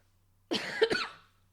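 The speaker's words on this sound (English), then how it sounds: "I have to cough and sip tea" A single close cough, short and harsh, breaking out of near silence and fading quickly.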